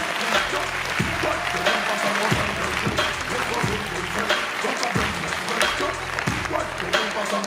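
Audience applause for regional officials and a jury member at a Fiction TV event, dense steady clapping throughout with voices and music-like tones underneath.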